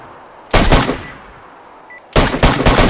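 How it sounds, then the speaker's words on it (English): Two loud bursts of AK rifle fire in a video game, overhead, each a rapid string of sharp cracks separated by a quiet gap of about a second and a half. "AK shots above us?"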